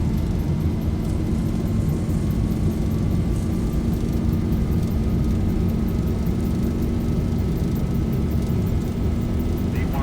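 A steady, loud engine roar builds during an airliner's takeoff roll in the X-Plane 11 flight simulator, with a dense low drone and a faint rising tone running unbroken throughout.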